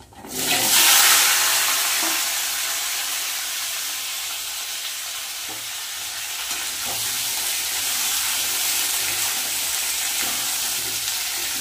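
Cut potato, pointed gourd and pumpkin dropped into hot oil with bay leaf, a loud burst of sizzling at the start that settles into a steady close frying hiss for over ten seconds, with faint stirring knocks.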